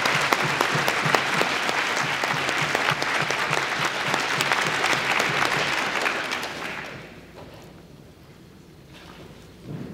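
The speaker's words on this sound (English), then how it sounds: "one more round of applause for all of our AP Scholars with Honor" Audience at a high school awards ceremony applauding AP Scholars with Honor: sustained, dense clapping for about seven seconds that then dies away into quiet room noise.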